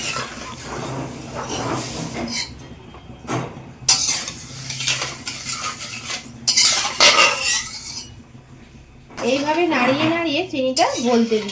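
A spoon stirs sugar and water in a metal pot while making a sugar syrup for homemade tutti frutti, giving repeated scraping clinks in uneven bursts, with a voice talking near the end.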